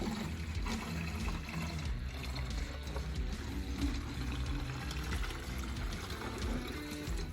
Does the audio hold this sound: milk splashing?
yes